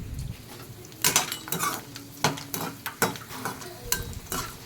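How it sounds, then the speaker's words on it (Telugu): Gold finger fryums frying in hot oil for an Andhra tomato dal meal, a soft sizzle running under repeated stirring, scraping and metal utensil clinks close by. "ఇప్పుడు గోల్డ్ ఫింగర్స్ వేస్తున్నానండి"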